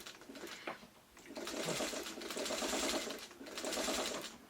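A sewing machine stitching quilt blocks runs in two sustained bursts of rapid, even clatter after a short pause, close and clear with no talk.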